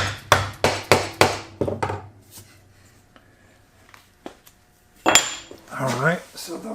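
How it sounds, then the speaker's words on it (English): Wooden dowels hammered through a metal dowel sizing plate, a series of sharp metallic knocks in quick succession, then scattered lighter clinks and taps, close and fairly loud. "run them through a dowel sizing plate to make sure"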